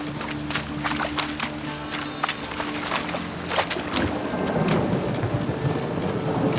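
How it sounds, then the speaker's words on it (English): Rain falls on a street in the video game The Witcher 3: Wild Hunt, a steady hiss with scattered patters that swells stronger toward the end, along with low rumbling. "Must be mad running around in this rain."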